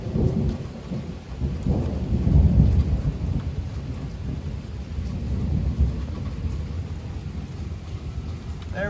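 Thunder rumbles low and long through steady rain during a thunderstorm on a cold fall day, a deep rolling boom swelling early and fading under the constant patter of rainfall.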